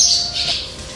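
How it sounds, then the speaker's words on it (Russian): Swallows circle in large numbers over an abandoned holiday camp, giving a brief, loud, close burst of high twittering and squeaky calls. "Вот это обычные ласточки, но их здесь очень много."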